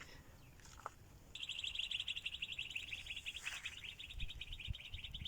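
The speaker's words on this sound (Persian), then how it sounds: "آواز پرنده ها" Birds sing near a mountain cave outdoors, with a bright, continuous high trill entering after about a second and carrying on steadily, moderately close, along with a few scattered chirps and a soft rustle beneath.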